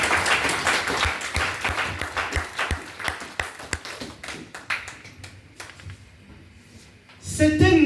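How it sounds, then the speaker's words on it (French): A church congregation claps in praise, a dense burst of many hands that thins into scattered claps, with voices and music rising near the end. "Let's clap for the Lord."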